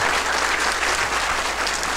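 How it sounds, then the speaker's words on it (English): Audience applause at the end of a university electrical engineering lecture: a steady, dense wash of many hands clapping at once, loud and even throughout with no pauses or talk over it. "Let's give a big applause for the Mark."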